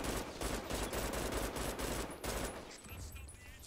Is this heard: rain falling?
no